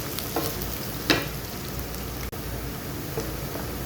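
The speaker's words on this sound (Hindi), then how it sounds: "प्याज तकरीबन सौते हो रहे हैं" Onions sautéing in oil in a pan for chicken biryani give a steady, dense sizzle throughout, with a few faint stirring clinks and one brief dropout, no speech.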